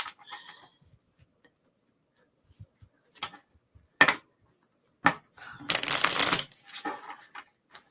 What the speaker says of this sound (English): I stack. I don't shuffle traditionally 3 times